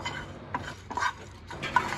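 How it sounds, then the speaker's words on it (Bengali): Whole cumin, coriander, mace, black peppercorns and a cinnamon stick dry roasting in a frying pan, with soft scraping and stirring rattles of the spices against the pan, close and fairly quiet. "এবার এটাকে আমি ড্রাই রোস্ট করে নিচ্ছি।"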